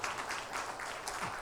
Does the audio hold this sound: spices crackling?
no